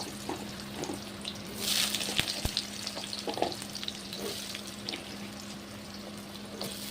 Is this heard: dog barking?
no